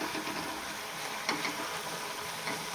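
Spicy fenugreek (methi) puris frying in hot oil, a steady close sizzle and crackle running evenly throughout with no voices.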